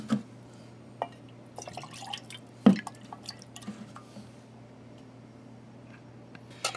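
Canteen water trickles and drips while a cup is rinsed outdoors at a field meal, with a few soft splashes and one sharper knock standing out against a quiet, steady background hum.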